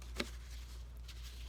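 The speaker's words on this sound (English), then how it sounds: "One more shuffle." A quick riffle of tarot cards being shuffled, one short crisp burst followed by a softer rustle, quiet and close with no talking.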